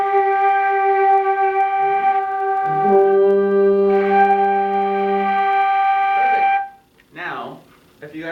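A school band sustains a concert G together, with bright steady tones joined midway by a deeper held note. The sound cuts off and a voice speaks at the end.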